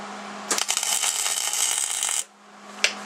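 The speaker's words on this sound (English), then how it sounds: "Now let's go ahead and see if it'll tack weld." Tack weld joining clamped pieces of steel for a tab-and-slot square, a steady crackling buzz for about two seconds with sharp pops at the start, then a brief click afterward over a low hum.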